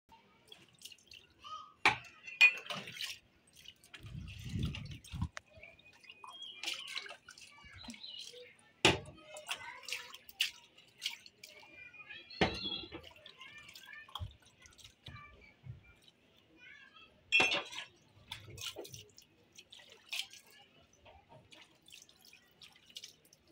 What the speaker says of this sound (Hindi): एकदम मट्टी वाला पानी आ रहा है।